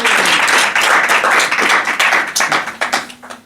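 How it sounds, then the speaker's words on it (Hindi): Church congregation applause during a Sunday service, dense, steady clapping from many hands, loud and close, thinning into a few scattered claps at the end. "आप प्रभु के नाम के लिए ताली बजा सकते हैं।"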